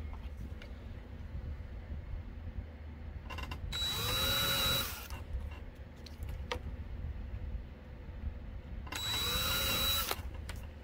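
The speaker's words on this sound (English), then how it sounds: "I'll do a small hole with the drill bit," A power drill with a small bit whirs up in two separate bursts of about a second each, boring a small hole, close by over a low background hum.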